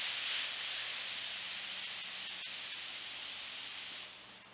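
A steamer hisses continuously onto wood veneer on the top of a 1964 Lane Acclaim buffet, loud and close, then tapers off slightly near the end.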